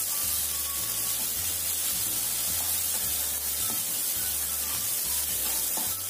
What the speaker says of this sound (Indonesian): Tumis sampai tercium bau wangi